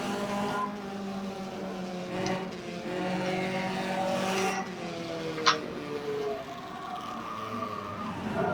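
A 1960s Formula 1 car in Grand Prix Legends drones steadily through a race, engine pitch rising and falling with gear changes, with a brief sharp squeal partway through.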